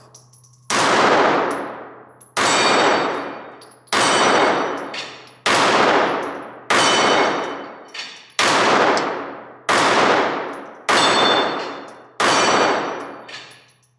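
Ruger Security 380 compact pistol fired at a steel plate tree target, eight loud shots spaced about 1.5 seconds apart, each followed by a ringing metallic clang that decays before the next.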